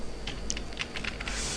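Someone types an email address on a computer keyboard: a short burst of light, quick key clicks, fairly close and quiet, with no talking.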